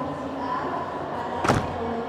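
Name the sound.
bus luggage compartment door being closed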